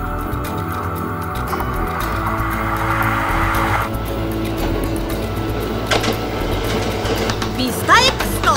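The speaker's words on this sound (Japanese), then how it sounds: "2万2000系 ACE もいろんな形式の車両と組み合わせられる特急じゃ" A Kintetsu 22000 series ACE limited express train runs with a continuous rumbling roar and mechanical hum, intensifying toward the end with a brief rising squeal.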